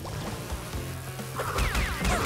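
Bees buzzing in the Crash Bandicoot 2 video game, a persistent insect drone with rising and falling whining tones that grows louder and busier toward the end, with no talking.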